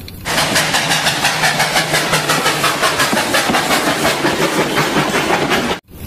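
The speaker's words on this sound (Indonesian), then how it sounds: "kereta api uap." A continuous rhythmic chugging hiss from a toy steam train, loud and steady for several seconds before cutting off abruptly.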